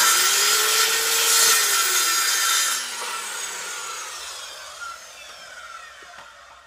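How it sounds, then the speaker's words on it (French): A saw cutting through wood while a mobile workbench is being built: a loud, continuous cut for a few seconds, then the sound fades and winds down, with no one speaking. "Il ne restera plus qu'à découper le bas maintenant."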